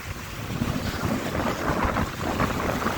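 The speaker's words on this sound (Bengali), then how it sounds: "এখন একটু বাতাসটা কমছে" Strong storm wind roars and buffets the microphone in a steady, fairly loud rush at a wetland lake in Natore, with no one speaking.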